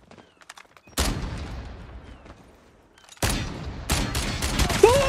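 Loud bursts of gunfire in the mobile shooter game Call of Duty Mobile, with sharp shots at the start and two heavier volleys later, ending on a headshot hit cue.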